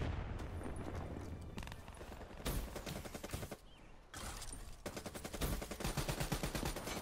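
Gunfire in a Black Ops III hardcore multiplayer match: dense rapid automatic bursts and rattling volleys, mostly continuous and fairly close, with brief gaps between strings of shots and no voices.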